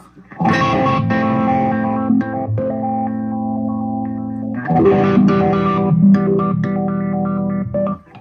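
Electric guitar chords ring out through a Line 6 M13 low-pass filter effect that rounds off the highs, sustained and swelling, with a brief pause before the chords return.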